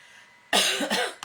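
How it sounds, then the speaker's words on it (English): A single harsh cough bursts out close by, followed by a short second catch of breath, after a near-silent pause. "Sorry, that cough is just, it's not going away."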